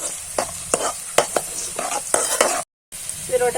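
Ginger and garlic frying in a pan for a kappilapazham fruit pickle, a loud continuous sizzle punctuated by regular spatula scrapes, cut by a brief silence near the end.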